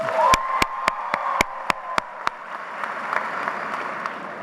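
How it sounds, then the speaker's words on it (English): A graduation crowd claps briefly, a few loud distinct claps up front over a broad murmur of many hands that thins out and fades toward the end, with no speech. "Now clap if you want the fun 10-minute speech."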